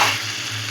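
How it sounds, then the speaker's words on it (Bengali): Spiced potatoes for a Kashmiri-style aloo dum are stirred slowly in oil in a wok. There is a brief, close scrape over a soft sizzle, with no voices. "খুব সাবধানে আস্তে আস্তে এটা নাড়াতে হবে।"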